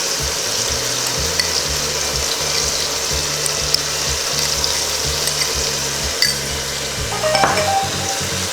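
Tomatoes fry with ginger-garlic paste in a pan for beef biryani, giving a loud, steady sizzle close by. A few utensil scrapes and clinks cut through toward the end.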